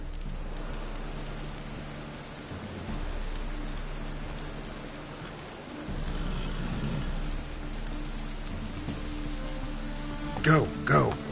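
Rain falls steadily in The Witcher III town setting, a soft continuous hiss with a low rumble underneath and brief sharper sounds near the end.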